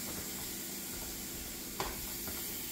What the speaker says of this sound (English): after you got your green beans and your minced garlic sauteing here, you want to add butter